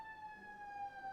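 Emergency vehicle siren outdoors gives a faint, distant steady wail with a sustained tone that drifts slightly in pitch, brief and heard alone without talking.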